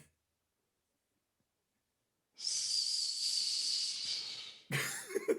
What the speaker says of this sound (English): No, there's the sound of the steam.